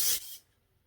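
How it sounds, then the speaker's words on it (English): A short burst of bug spray in a video game, a loud broadband hiss lasting under half a second that cuts off quickly into near silence. "I'm gonna use bug spray from now on."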